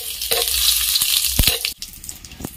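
Bay leaves, cumin and dried red chilli sizzle in hot mustard oil in a pan, a close, steady frying hiss with a few sharp crackles and pops, fading quieter near the end.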